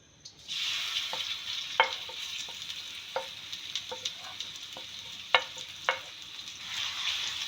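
Onion frying in a little over half a cup of oil for keema methi, a steady bright sizzle with periodic sharp clicks of a spoon stirring against the pan.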